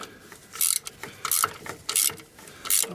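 Ratchet clicking as compressor bolts are undone on a Ford EcoBoost 1.0 engine: four bursts of fast, close ratcheting, evenly spaced with short pauses between, no talk.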